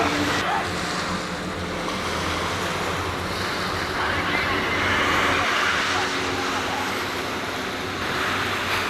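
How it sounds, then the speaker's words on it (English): Surf rolling onto a sea coast, a broad steady wash mixed with wind buffeting the microphone, loud and continuous throughout. "We've made it to the sea after 3 months of hard graft. This is the sea."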